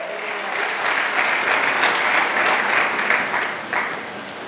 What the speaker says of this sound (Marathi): आपण टाळ्या वाजवतच